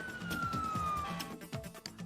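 A fire brigade siren from the SimCity 4 city-building game wails in a steady falling tone, layered over looping game sounds and rhythmic low beats.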